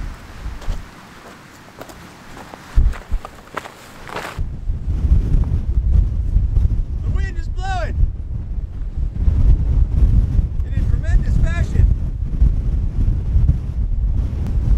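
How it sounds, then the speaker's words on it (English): Strong wind buffets the microphone on an exposed mountain trail at Foster Point, a loud, continuous roaring gust that intensifies after the first few seconds, with faint bird-like squeaks briefly audible. "Okay, it is still very, very windy."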